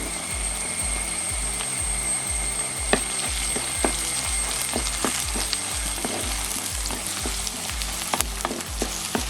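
Crushed garlic and curry leaves fry in a pan for a fish curry with a steady close sizzle and scattered pops and spatters, with no talk.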